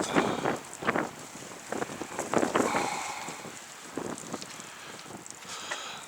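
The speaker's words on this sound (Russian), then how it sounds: "Но ветер ураганище." Strong southerly wind of about 15 m/s roars and buffets the microphone outdoors in steady gusts with sharper bursts, with no talking.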